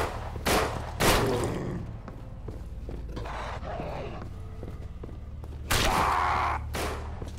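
Glock pistol shots in the zombie survival game No More Room in Hell, a few sharp loud reports spaced apart amid game noise and footsteps.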